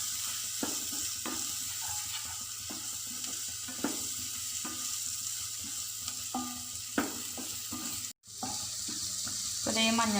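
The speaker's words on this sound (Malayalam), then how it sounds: "നന്നായിട്ടൊന്ന് ഇളക്കി കൊടുക്കുക." Turmeric is stirred into egg bhurji masala frying in a pan: a soft continuous sizzle with repeated scraping spoon strokes, close and fairly quiet, briefly dropping out before resuming.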